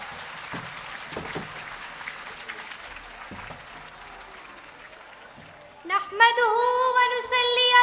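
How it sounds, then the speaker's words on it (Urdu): An audience at a school Seerat un Nabi speech event welcomes a student speaker with moderate, fairly distant clapping, and after it eases a single clear voice begins, loud and close. "آپ اپنی زوردار تالیوں میں خوش آمدید کہیں حارثہ طارق کو"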